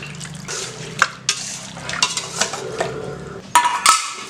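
Milk being mixed into a Korean fried chicken marinade in a bowl, with close, irregular stirring and scraping clinks and soft wet sloshing, a few sharper utensil taps near the end.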